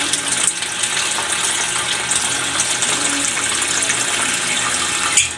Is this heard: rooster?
no